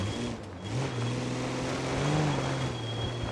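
A BMW M5 in BeamNG.drive revs continuously nearby, its engine note climbing and settling with throttle changes, loud and steady without pause.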